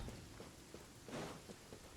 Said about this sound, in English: Oh my god, it's pouring here.